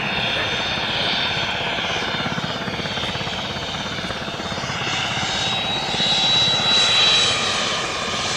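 A Cirrus Vision SF50 jet passes low and slow at about 85 knots with its gear and flaps down, a steady loud engine roar that swells slightly toward the end, with no talking over it.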